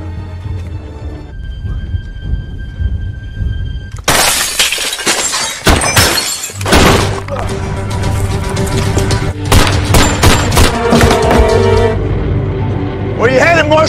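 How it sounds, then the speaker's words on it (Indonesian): Gunfight at a marshal's office in an action film: loud bursts of gunfire, shattering glass and booming impacts over a tense score, dense and continuous, with voices mixed in. "Terjadi baku tembak cukup seru di kantor Marshal"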